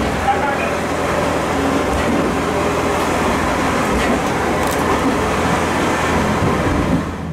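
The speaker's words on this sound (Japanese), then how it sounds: "列車はゆっくりとしたスピードで走り続け" A JR Shikoku Railway Hobby Train rolls slowly along, a steady, continuous rumble of wheels and carriage noise filling the cabin, with a faint voice in the background.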